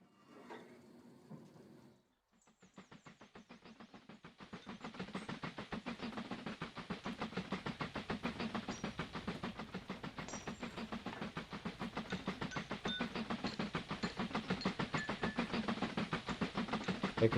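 Trains in the Mashinky video game run steadily along the tracks, with a continuous rhythmic clickety-clack that grows a little louder over the stretch, alone and without talk.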